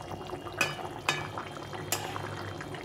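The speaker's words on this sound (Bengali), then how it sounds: "ঝোলটা ফুটে গেছে, কত সুন্দরভাবে ফুটে গেছে দেখো" Thin fish broth with ridge gourd boiling in a pot, heard as quiet, close bubbling with a few sharper pops spaced through it.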